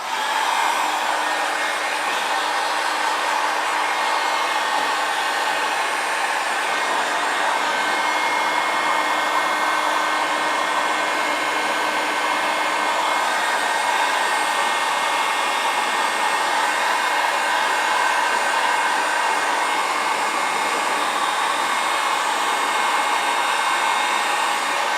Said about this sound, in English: All right, got the heat gun out. Gonna heat up some decals